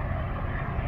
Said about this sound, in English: And it's a helicopter, it's a training helicopter, you see.